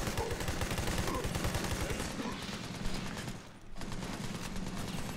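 Sustained automatic gunfire in the co-op shooter Army of Two: The Devil's Cartel, rapid bursts hammering nearly nonstop and loud throughout, with a brief dip in the barrage before it resumes.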